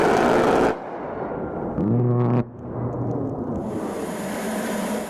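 An A-10 aircraft firing short, controlled bursts on a low strafing run, with a loud roaring broadband blast that cuts off abruptly, a brief low buzzing burst, then a steady distant jet roar.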